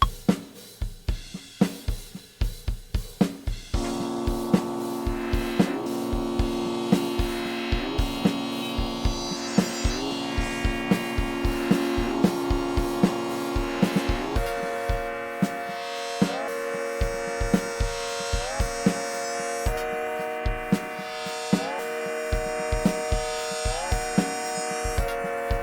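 Synclavier-emulation synth patch called Arthur is Dreaming plays a steady 5/4 pattern, sustained chordal tones and shifting melodic lines over a regular pulsing click-like beat, continuous and moderately loud.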